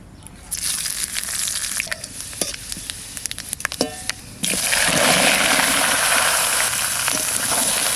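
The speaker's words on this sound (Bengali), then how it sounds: "তাই টকের জন্য এবার তেল দিয়ে দিচ্ছি। 5 ফোড়ন আর শুকনো লঙ্কা।" Bengali five-spice and dried red chillies crackle in hot oil in a clay pot, with sharp popping spatters and stirring scrapes, then a sudden louder, continuous sizzle takes over.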